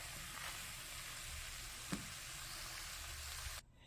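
Garlic sizzling steadily in a pot while beef noodle soup is being made, a constant crackling fry with a single brief clink partway through before the sizzle cuts off near the end.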